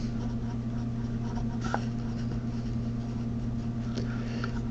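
Faint chalk or marker strokes on a board while an equation is written, a few scratchy taps over a steady low electrical hum, no speech.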